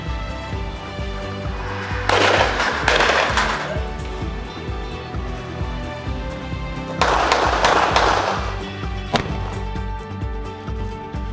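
Gunfire at a shooting range, two loud bursts of rapid shots separated by a quieter stretch with a steady low hum, plus one single sharp report near the end, heard close.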